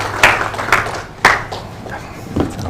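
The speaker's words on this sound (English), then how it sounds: "Please, a round of applause as he comes up to the stage." Applause at a quality assurance summit as a chairman walks up to the stage, loud and near with a few sharp individual claps standing out over a sparser ripple of hands, fairly brief and uneven.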